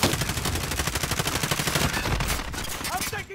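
Rapid, continuous automatic gunfire from a Call of Duty match, loud and dense with a steady rhythm of shots throughout, briefly thinning near the end.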